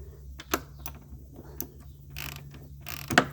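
A ratchet tightening the upper intake plenum bolts on a 2010 Dodge Charger 3.5: short bursts of close, crisp clicking with pauses between, ending in a louder clack.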